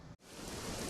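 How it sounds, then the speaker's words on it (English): Steady, hissing rainfall begins after a brief cut of silence, a dense even patter with no voices. "Then it started to rain."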